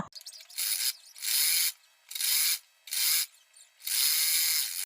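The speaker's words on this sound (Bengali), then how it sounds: "ঠিক কাটিং বরাবর এটাকে আমি সেলাই করে নিচ্ছি মাথা পর্যন্ত" A sewing machine stitches petticoat panels along the cut edge in four clipped bursts of rapid mechanical clatter separated by short silences, close and fairly loud.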